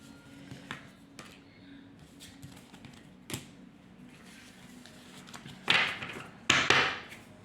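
Tarot cards shuffled and laid out during a card reading: soft scattered taps and slides, then two louder brushing swishes near the end, close and alone with no talking.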